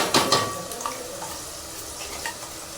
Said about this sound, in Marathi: तेल आपलं मस्त तापलेलं आहे टाकून घेऊया सगळा